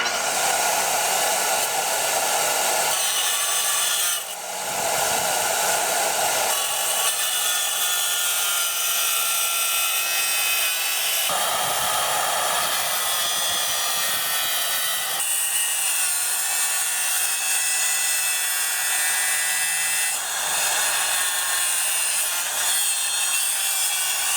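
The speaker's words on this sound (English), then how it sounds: "Now we're going to miter along the side here." A Diamondback 7-inch tile saw from Harbor Freight making a miter cut through tile, with a loud continuous grinding whine that runs steadily for over twenty seconds and shifts as the blade moves through the cut.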